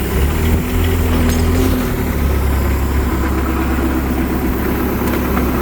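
A Scania 143 V8 truck engine idles with a steady low rumble and vibration that holds continuously throughout, fairly close and loud, with no talk over it.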